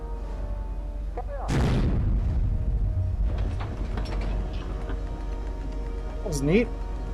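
A Bismarck gun turret firing in a ship exploration game, one short muffled blast of moderate loudness over a steady low rumble, followed by mechanical ticking and a brief warbling tone.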